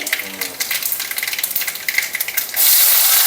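Shallots tipped into hot oil over mustard seeds for a potato egg stir-fry: a steady crackling sizzle and hiss that swells into a louder, dense spitting burst near the end.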